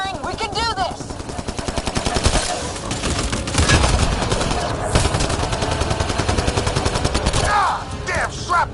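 Loud, rapid gunfire in a Mass Effect Andromeda battle, overlapping bursts and crackling shots with whooshing effects at the start and end, no clear speech.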